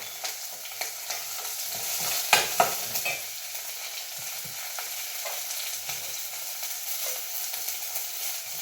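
Green chili, ginger, garlic and curry leaves sauté in a pan with onion, a steady soft sizzle broken by a few sharp spatula knocks and scrapes near the start.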